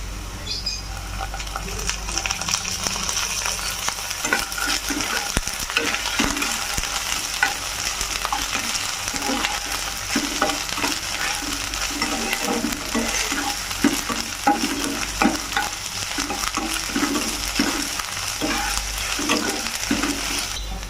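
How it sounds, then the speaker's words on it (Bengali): Onion, garlic and ginger paste frying in a pan while being stirred, for an egg paneer curry with cashew: steady close sizzle with repeated scraping stir strokes throughout, no talking. "রসুনটা পেঁয়াজের সঙ্গে ভালো করে ভাজা হয়ে গেছে, এরপরে 1 চামচ আদা বাটা দেবো"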